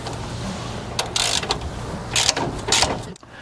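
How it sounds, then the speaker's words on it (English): A shock absorber is removed from the front suspension of a 1963-87 Chevy GMC truck, with close ratcheting and a few short bursts of metallic scraping and clicking from a wrench, fairly quiet, with no talking. "So now I can go and take my shock off."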